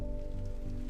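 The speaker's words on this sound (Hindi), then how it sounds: "तेज बारिश हो रही है।" Steady, dense rain hissing continuously on a surface, with a constant low hum underneath and no voices.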